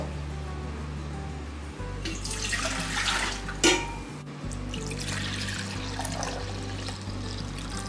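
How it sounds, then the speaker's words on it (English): White vinegar pours into a container for pickles, a steady liquid stream with broadband splashing that swells and fades over several seconds, close and clear with no talking. "let's start with the white vinegar here."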